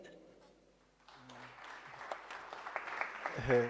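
An audience at a postdoctoral fellows' seminar breaks into applause after a quiet pause, the clapping swelling gradually and growing louder toward the end, with a voice faintly mixed in.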